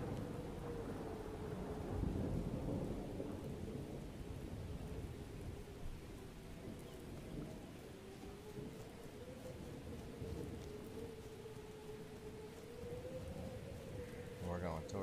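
Heavy rain pours steadily through a thunderstorm in the survival video game SurvivalUK, with deep rumbling thunder rolling underneath. The storm is continuous and fairly loud, and a faint crackle of sharper thunder comes at the end.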